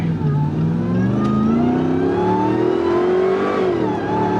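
A modified Jeep's throaty engine revs up, its pitch rising smoothly over a few seconds before easing off, loud and close.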